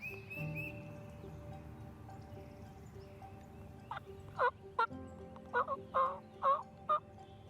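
Wild turkeys in the woods gobbling, a few clear gobbles in quick succession at moderate distance, heard over low steady background noise.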